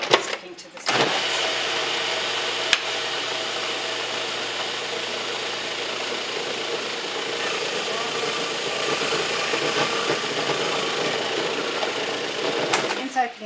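Blender whirring steadily as it blends a thick cashew cheese mixture, a continuous motor drone running for most of the stretch, starting and stopping near both ends.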